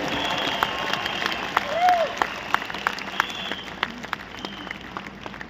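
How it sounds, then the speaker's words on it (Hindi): Applause from a business audience at a Vestige leaders and entrepreneurs event: sparse, separate claps rising through the room, with voices and a brief tone over them. "इसलिए लेडीज के लिए जोरदार तालियां"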